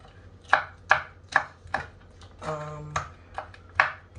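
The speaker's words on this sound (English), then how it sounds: "So I'm dicing these up small." A knife dices peppers into small pieces on a cutting board for fritters, about eight crisp, evenly spaced chops close by, with a brief scraping pause midway.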